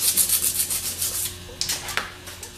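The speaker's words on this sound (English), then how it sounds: "We're going to take a piece of sandpaper and go all the way around and clean it up." Sandpaper rubs around a clamped starter armature from a 37MT starter, giving a rapid series of close, rhythmic rasping strokes that fade out, followed by a couple of brief scrapes.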